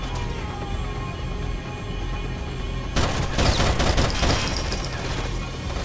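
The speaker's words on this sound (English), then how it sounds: "Throw on a flashbang." A flashbang grenade detonates in the shooter game Rainbow Six: Vegas, a sharp broadband burst partway through followed by ringing, crackling debris over steady background game noise.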